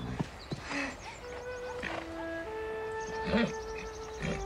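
A mare snorts and whinnies amid outdoor noise, with a few tonal calls and brief voices in the background.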